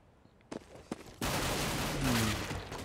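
Gunfire in a Counter-Strike match on the Dust 2 map: a few sharp isolated shots, then a sudden sustained roaring burst of rapid fire that carries on loudly to the end.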